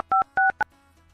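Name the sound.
phone keypad dialing tones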